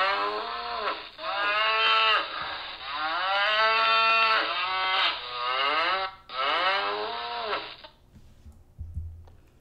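A cow on a farm moos several times in long, loud, drawn-out calls separated by short pauses, close and clear with no talk.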